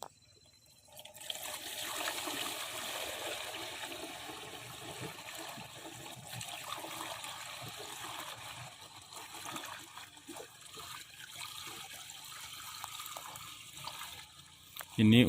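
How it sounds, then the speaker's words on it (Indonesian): Liquid pours steadily into a 16-liter backpack sprayer tank being filled to about 17 liters for shallot crop care, a continuous rushing splash that runs for about fourteen seconds before stopping abruptly. "tuangkan ke dalam spray"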